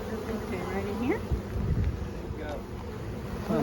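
Honey bees buzz around open Langstroth hives during an inspection. The close, continuous humming is mixed with wind noise and faint distant voices.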